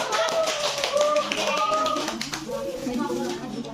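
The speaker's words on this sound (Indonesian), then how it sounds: "Kita beri tepuk dulu." Classroom clapping during a microteaching lesson, a burst of hand claps from students mixed with chatter and children's voices throughout.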